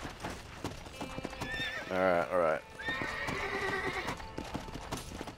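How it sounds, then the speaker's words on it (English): A horse in the video game Red Dead Redemption, with steady clip-clopping hooves and a loud whinny in the middle; someone speaks briefly at the start. "Ah, you stupid fucking horse."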